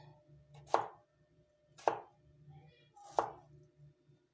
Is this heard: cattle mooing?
no